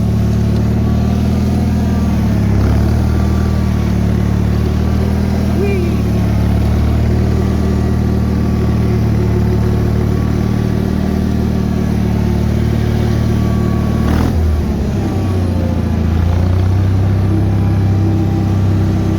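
A Bolens HT-23 garden tractor engine with a blown head gasket and clogged cooling fins idling at low RPM, a loud, steady mechanical drone running throughout with a brief bump partway through.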